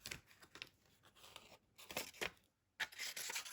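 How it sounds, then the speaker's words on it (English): Scissors snip card stock close around a stamped image, giving a few short crisp cutting and rustling bursts with brief pauses, close and fairly quiet, with no talking. "And then we're going to trim very, very close"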